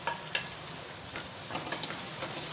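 Thinly sliced onions and curry leaves frying in oil for a restaurant-style chicken dish, a continuous soft crackling sizzle with a few light stirring clicks, fairly quiet and with no talk.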